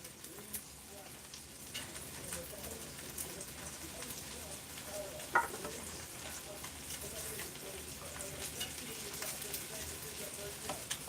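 Pork chops and garlic sizzle in a pan with a soft, steady crackle and faint spitting, one sharper clatter midway, while someone talks.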